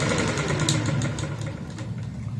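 A sewing machine runs steadily while stitching fine, small seams on fabric for a neckline, giving a continuous close mechanical whir with a low rhythmic drone and no talk over it.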